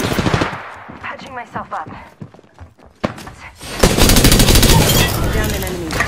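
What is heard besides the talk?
gunfire in a video game shootout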